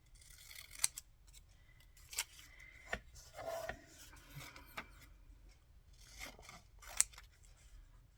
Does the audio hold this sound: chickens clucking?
no